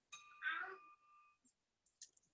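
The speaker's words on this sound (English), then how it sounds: "Ring the bell, President Sue." A bell rung at a Rotary club meeting gives one clear, ringing strike that sustains and fades, followed by a few faint, scattered clinks and small room noises.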